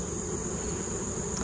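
Honeybees drone in a bee yard with a dense, steady hum throughout the short stretch, moderately close and with no talk.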